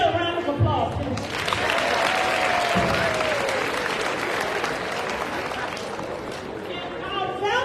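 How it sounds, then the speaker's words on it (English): An audience at a 2024 high school senior assembly breaks into loud, sustained applause with some cheering, rising after a spoken introduction and fading as a speaker resumes. "Can I get a round of applause, please?"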